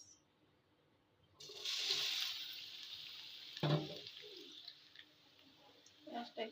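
Onions sizzle and spit in hot oil in a pan while a hilsa fish curry with eggplant is being cooked, a steady hiss that swells, then a few louder pops and crackles near the end.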